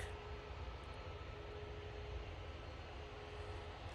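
A Ryanair jet airliner arriving from Gdansk rumbles at a distance, a faint, steady low drone with a thin tonal hum running underneath, unchanging over a few seconds.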